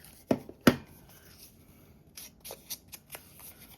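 Scissors trim the edges of a paper craft tag: two sharp nearby snips, then several softer cuts and paper rustles, quiet and close with no talking.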